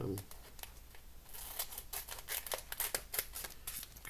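Scissors snipping through packaging at a papercrafting table, a quick series of sharp crisp cuts and crinkles, close and fairly loud, with a brief voice at the start.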